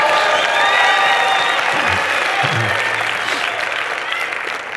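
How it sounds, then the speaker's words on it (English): A church congregation claps steadily through a prophetic service, loud and dense, with scattered voices and a brief low shout rising from the crowd partway through. "Come on, clap, do something."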